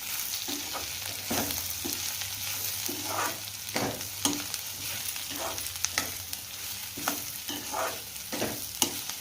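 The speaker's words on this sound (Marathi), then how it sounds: "लाल मिरच्या तळून टाकायच्या." Steady sizzle of bay leaf, mace and dried red chillies frying in hot oil for tempering, punctuated by regular spoon clinks and scrapes against the pan, close up with no talking.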